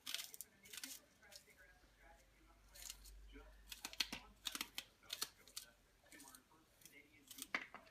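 A knife dices green peppers on a cutting board for chili, giving quiet, irregular bursts of sharp taps and clicks against the board.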